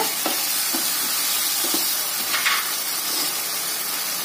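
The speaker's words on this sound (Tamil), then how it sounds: "இப்போ தக்காளி வதங்கிட்டு வருது" Chopped tomatoes sautéing in a pan for Malabar chicken dum biryani give off a steady, close hiss and sizzle, with soft scrapes of stirring now and then and no voices.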